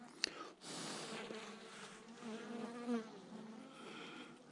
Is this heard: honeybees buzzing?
yes